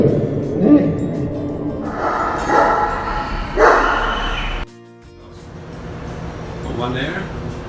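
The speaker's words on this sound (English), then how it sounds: "And this is where they keep the dogs." Several dogs bark in short, loud bursts nearby amid an outdoor crowd, with people talking over and between the barks.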